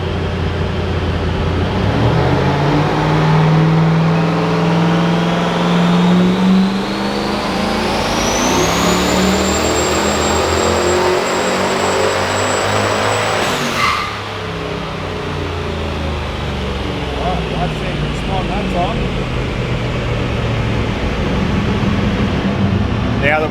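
A turbocharged iron-block 5.3 LS car accelerates hard while held in third gear, a loud, sustained engine roar with a whining turbo tone climbing steadily in pitch before a brief dip near the end.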